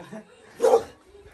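A hostile dog near a village home lets out one short, close vocal burst, part growl and part yelp, between softer low rumbles.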